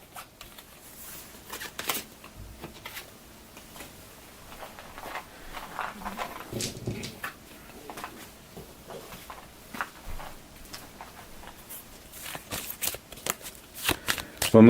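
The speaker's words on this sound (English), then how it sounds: "And now we're drawing initiative cards again." Initiative cards being shuffled and drawn at a tabletop fantasy role-playing game, with repeated close papery riffles and snaps, quiet voices murmuring around the table.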